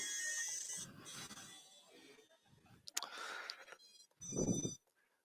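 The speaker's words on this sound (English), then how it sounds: "That song was actually played by the motors." Short electronic tonal bursts from FPV drone motors with a whirring quality, stepping through a tune in quick separate phrases, then a louder low burst near the end.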